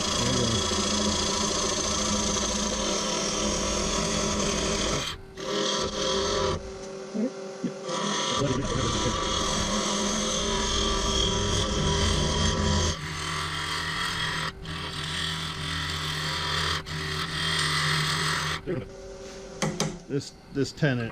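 A wood lathe turns a wooden bowl blank, a steady dense whir with scraping tool cuts that break off and resume several times, loud and close, with a person talking over it.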